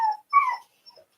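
Dogs whimpering and yipping in short, high whines, with two close bursts followed by a fainter whine, near and alone without talk.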